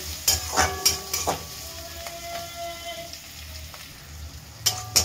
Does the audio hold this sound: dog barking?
no